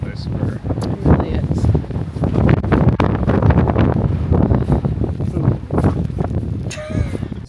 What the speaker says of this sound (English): The wind here is insane. It's a different kind of wind, I swear.